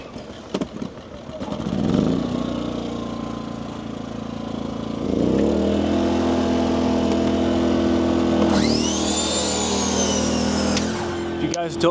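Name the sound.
generator running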